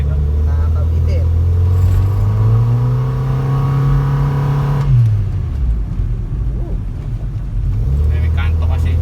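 A Honda Civic VTi with a VTEC engine, valves freshly adjusted, revs hard on a road test, its pitch climbing steadily then dropping off sharply at a gear change before building again, loud and close throughout with a person talking over it.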